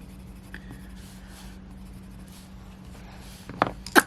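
Faber-Castell colour pencils rub softly and steadily on paper in a quiet room, a close, low scratching texture under faint background hum, ending with a couple of small taps and clicks.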